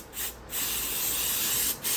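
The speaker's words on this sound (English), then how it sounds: "So we'll just spray some cleaner on it." Three quick bursts from a spray bottle of cleaner hiss close by onto an old 1973-87 GM truck wiring harness, the middle one long and steady, separated by brief pauses.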